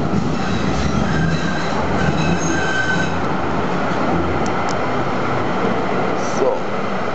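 A tram pulls into Mülheim an der Ruhr main station, a steady close rumble of wheels on rail with sustained squeal, faint clicks and brief higher tones above the running noise, continuous throughout.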